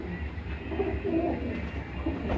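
Kept pigeons cooing nearby, low soft throaty coos rolling on and off over quiet background noise with no talk.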